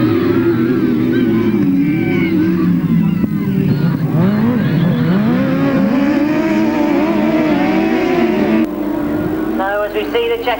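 Sidecar motorcycles race on a grasstrack in 1999, their engines droning loud and close with rising and falling revs throughout, while a commentator talks steadily over the noise.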